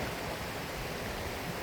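A river flows beside a wild campsite with a hammock shelter, a steady, even rush of water that stays close and constant throughout, with no voices.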